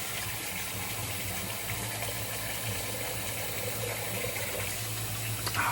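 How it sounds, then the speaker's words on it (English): Tap water runs steadily into a shaving bowl at a sink, a continuous close gushing stream with no talk. "I'll kind of lather while we're filling the bowl back up."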